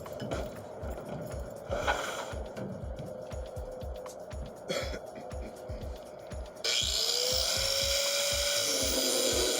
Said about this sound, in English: I'm gonna grind all this stuff off.